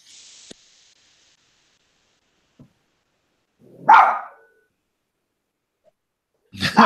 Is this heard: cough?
no